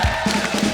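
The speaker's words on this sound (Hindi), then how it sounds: "जोरदार तालियां हो जाए एक बार।" Studio audience at a comedy show bursts into brief, loud applause and cheering, a dense crowd roar with no talking over it.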